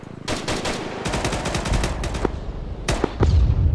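Machine gun fire in a combat video game rattles out in several rapid bursts, loud and close. The bursts are separated by brief pauses, and scattered single shots follow near the end.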